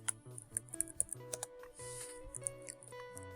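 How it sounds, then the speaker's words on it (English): Keys on a computer keyboard clatter in quick, uneven bursts of sharp clicks while someone types code during an R programming lesson, set against a steady tonal background. "I'm just checking my typing real quick."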